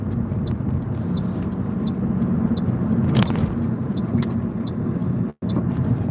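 A BMW car drives by with a loud, steady engine and road rumble that fills the scene continuously, briefly cutting out near the end.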